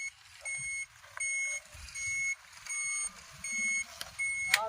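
A vehicle's reversing alarm sounds about six regular, evenly spaced beeps, fairly faint and somewhat distant, over a low idling engine rumble.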